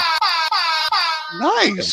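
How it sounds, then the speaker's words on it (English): A little handheld mini air horn blares in a few loud, steady bursts separated by brief gaps, then gives way to a wavering, warbling tone. "I forgot about this little mini air horn I had in the background"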